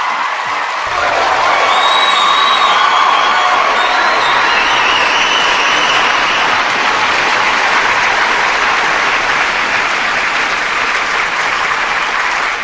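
A lively group claps and cheers together after a thankful morning-show gathering, with a swell of applause, scattered whoops and voices rising over the clapping before it settles into a steady roar.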